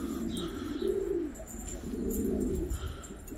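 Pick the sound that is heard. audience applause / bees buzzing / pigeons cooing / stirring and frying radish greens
pigeons cooing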